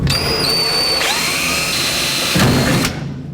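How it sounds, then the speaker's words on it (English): A power drill with a 1/4 inch bit whirs steadily at high speed into 1949 Chevrolet metal, its pitch dipping as the bit bites, then a brief louder grinding burst before it winds down. "Take a 1/4 inch bit and drill that out."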